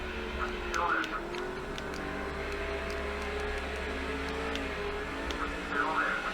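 Race cars in NASCAR 06, Busch Series race at UPS Speedway, drone steadily side by side through a turn, a constant engine roar with occasional ticking under an announcer's voice.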